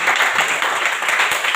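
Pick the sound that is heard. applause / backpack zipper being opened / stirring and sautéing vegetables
applause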